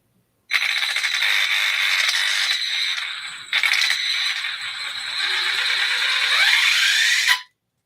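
An Axial Ryft RC crawler's servo and motor whirring in a loud, high-pitched mechanical whine with gear rattle, running steadily for several seconds, dipping briefly, then cutting off abruptly.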